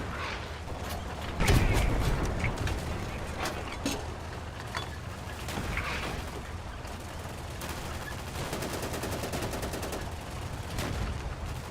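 Gunfire from a tank cannon shooting armor-piercing rounds in the Easy Red 2 France 1940 game, several sharp reports spaced across the clip amid mechanical clanks, creaks and distant battle noise, with no talk.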